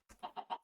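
A chicken in Minecraft clucks three times in quick succession, short close-up clucks in an even rhythm with no talking.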